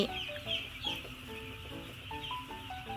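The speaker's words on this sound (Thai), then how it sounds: "ลูกไก่นะคะ ในวันที่6 ของการกกไข่นะคะ" Six-day-old chicks on a farm, brooded in a warm room, give a busy chorus of repeated high peeping calls and soft clucks, fairly faint and close, with no talk.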